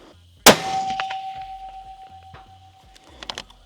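A sharp crack and bright ringing clang of a rifle bullet striking a steel plate at long range, the tone holding steadily and decaying, with faint clicks afterward.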